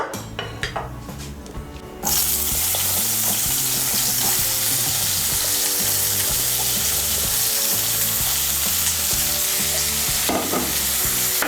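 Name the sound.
frying eggplant pieces in a wok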